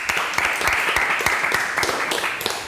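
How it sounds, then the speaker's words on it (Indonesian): Audience at a motivational talk gives a round of applause, a dense, loud, continuous patter of many hands lasting a few seconds with a faint voice underneath. "Tepuk tangan dulu dong."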